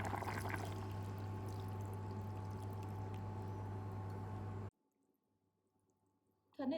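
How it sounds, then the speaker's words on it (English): Water poured into a pot of Taiwanese cola braised pork with soy sauce, a steady splashing pour for several seconds that stops abruptly into near silence. "add about half cup of water"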